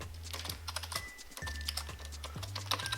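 Fingers type on a computer keyboard in quick, irregular bursts of close, crisp key clicks over a low steady hum, with no voice.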